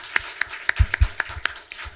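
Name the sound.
audience applause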